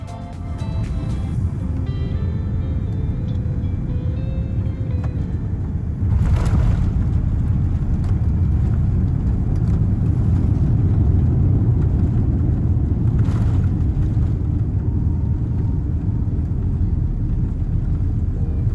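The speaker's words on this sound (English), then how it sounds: "The landing gear deploy, and our captain takes us down for a smooth landing onto runway 9 left." An Air France Boeing 787 touches down on the runway, heard from inside the cabin as a loud, steady low roar with a heavier rumble and a few thumps as the wheels meet the ground.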